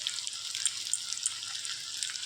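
Thin, bright sizzling of shrimp frying in hot oil with taro stolons, steady and moderately quiet with faint crackles throughout.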